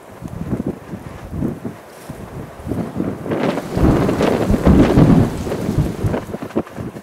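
Thunder rumbles during a thunderstorm at a lake, a loud rolling low roar that swells in the middle, with wind noise on the microphone and no talking.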